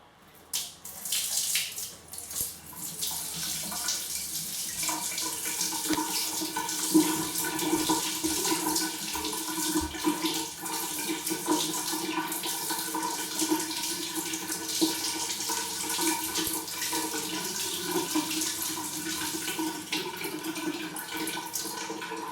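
Water gushes steadily from a tap for a long stretch, a constant splashing rush after a few initial bumps and clatters.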